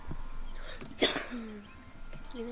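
A single close cough bursts out sharply once, amid quiet background sounds of a game.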